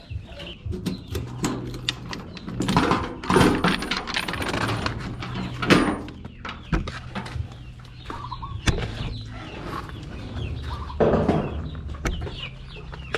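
Chickens cluck and chatter nearby at feeding time around their coop, with scattered sharp clinks and rustling mixed in, in irregular bursts.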